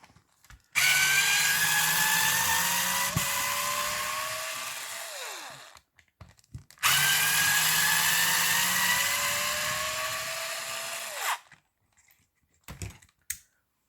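A power tool spins to loosen screws while a Kyosho Inferno Neo 3.0 RTR radio-controlled car is taken apart: two sustained, loud whirring runs of about five seconds each, their pitch sliding as they wind down, followed by a few faint clicks.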